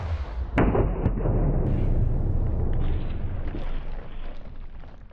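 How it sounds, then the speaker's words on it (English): A single Aguila Super Colibri .22 round is fired, a sharp but fairly soft pop followed by a few seconds of rushing, rumbling noise and faint echo. "First up, our Super Colibri Aguila round. 3, 2, 1, firing."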